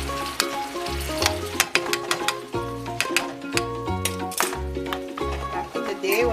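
Ackee and saltfish are gently stirred in a hot pan, sizzling and frying steadily up close, with repeated soft scrapes of the spoon over a constant background tone.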